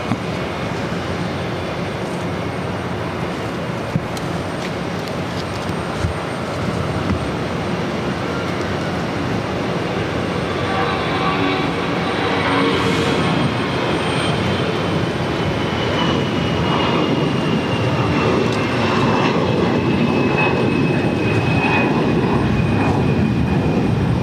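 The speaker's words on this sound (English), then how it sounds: "This is Delta Airlines 303 taking off to Dallas Fort Worth on an A319." Delta Airlines Airbus A319 taking off from Boston bound for Dallas Fort Worth, a steady loud broadband jet roar that swells gradually over the run, with rising engine whine tones toward the end.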